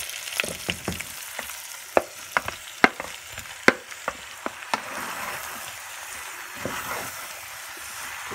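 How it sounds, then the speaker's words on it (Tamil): Vegetables being added to a pan where fennel seeds and cinnamon are already frying in oil for a tomato onion thokku, giving a steady crackling sizzle with sharp pops and clinks of stirring scattered throughout. "ஸோ வந்து காய்கறி எல்லாம் போடுறேன்"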